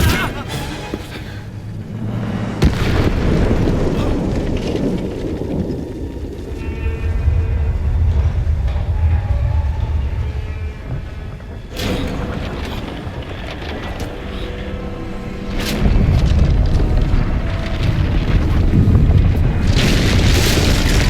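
A grenade blows up in the video game Indiana Jones and the Great Circle, with deep booming rumbles swelling and fading across a long stretch, heavy low-end blasts alone without speech.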